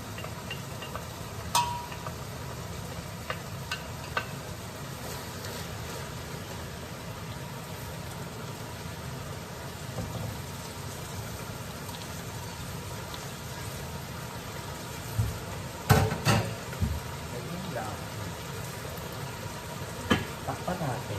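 Shrimp sizzle and fry in a pan during pancit cooking, a steady crackling hiss throughout with a few clinks and stirring knocks of utensils scattered over it.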